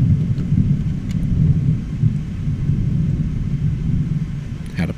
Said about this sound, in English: Had to pause for that thunder right there